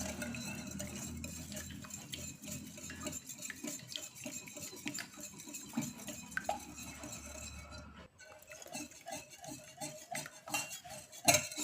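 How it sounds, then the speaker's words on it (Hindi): Two eggs are beaten in a bowl for a sweet bomboloni dough, a quiet run of quick metal-on-bowl clinks and scraping strokes, steady at first and then sharper and more spaced toward the end. "यहाँ पर 2 एग हमने लिए हुए हैं। अब इनको हमें अच्छी तरह से मिक्स कर लेना है।"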